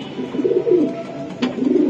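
Racing pigeons coo from a loft at a pigeon farm, with several low, rolling throaty calls overlapping close by, steady and moderately loud with no talking.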